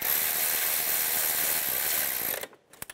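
A hand ratchet clicks rapidly and steadily while snugging down the nuts on a 2003-2007 Honda Accord engine knock sensor, then stops, leaving a few faint clinks.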